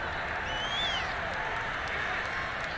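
A stadium crowd at a 2022 NFL game between the Philadelphia Eagles and Washington Football Team gives steady applause and murmuring noise, a continuous distant wash with a faint whistle-like tone and possible voices mixed in.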